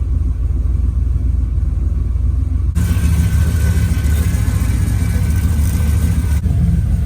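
A turbocharged LS-swapped BMW E36 engine idles with a steady low rumble that grows slightly louder partway through, droning on without any voices.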